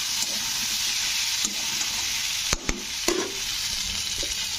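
Turmeric and chili powder stirred into masala frying for a bottle gourd greens and poppy seed dish, a steady sizzle with a few sharp spoon scrapes and knocks against the pan partway through.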